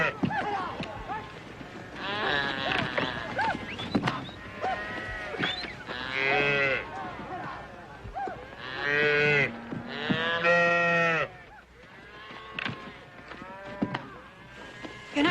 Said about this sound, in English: All cattle look alike.